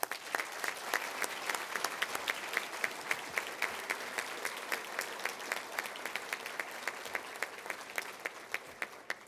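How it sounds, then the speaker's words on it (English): Audience applause at a governor's prayer breakfast in Missouri, a steady crowd clapping with sharp individual claps standing out, moderately distant and sustained for about nine seconds. "Please give everybody a round of applause."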